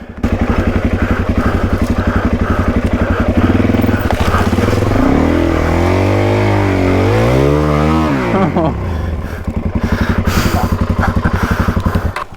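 A Suzuki DRZ400E dirt bike engine revs hard through soft sand on a Cape York ride, loud and close, with a steady thumping drone that rises and falls in pitch as the throttle works, bogging briefly mid-run.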